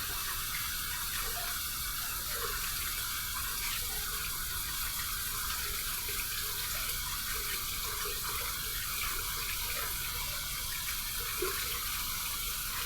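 Hot water runs from a sink tap in a steady, unbroken hiss and splash that stays even in level for the whole stretch, with no voices over it.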